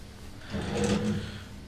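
A hotel room drawer slides open once, a soft scraping rumble that swells and fades at close range with no voices.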